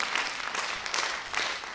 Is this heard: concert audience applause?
yes